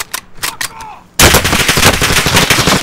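Rapid automatic gunfire in a Call of Duty Warzone gulag fight, dense sustained bursts starting abruptly after a few quieter sporadic shots and loud throughout.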